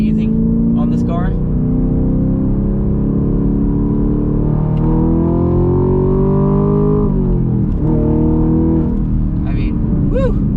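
A 2021 Chevrolet Camaro 2SS 1LE engine pulls hard under acceleration, a loud, rising V8 drone sweeping upward through the gears with a brief shift dip midway, heard from inside the car with occasional voices over it.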